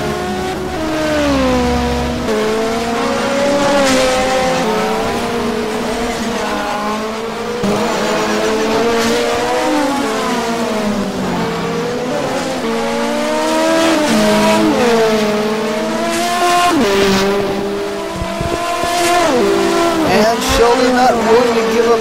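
Audi race cars at Long Beach roar past in a close pack with rising and falling engine revs, gear shifts and tire squeal, loud and continuous beneath a commentator's voice.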